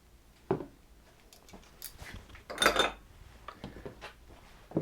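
Mascarpone is scraped off electric mixer beaters into a bowl of cream: scattered short clinks and scrapes of metal against the bowl, close and moderately loud, with quiet gaps between them.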